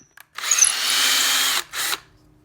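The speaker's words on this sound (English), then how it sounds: "So as I spin it on the drill" A hand-held power drill spins a wooden pen blank for woodturning, whirring steadily for about a second and a half, pausing briefly, then spinning again for a shorter burst, close and loud.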